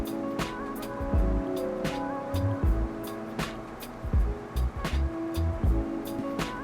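Hot coffee pours over a glass of ice for flash-brew iced coffee, a steady close splashing stream broken by sharp crackles and clinks as the ice shifts and cracks.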